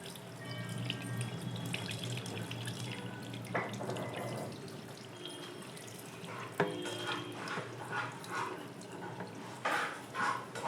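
Water poured off freshly washed plant leaves held back under a lid, a steady running, splashing pour with trickles and drips continuing throughout, close by and moderately loud.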